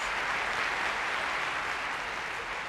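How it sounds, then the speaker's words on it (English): Thunderous applause from a concert hall audience as the conductor walks on before an orchestral performance, a thick unbroken roar of clapping that stays loud and even throughout, with no voices over it. "The conductor enters to thunderous applause."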